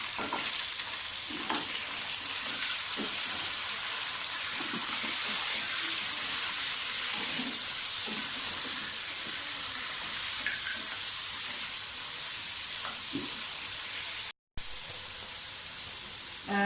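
Meat goes into a hot pot with whole spices for a wedding-style aloo gosht, giving a loud, steady sizzle and hiss that runs unbroken for the length of the clip, with a brief cut near the end.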